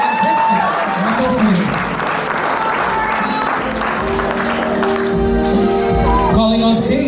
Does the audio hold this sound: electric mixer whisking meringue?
no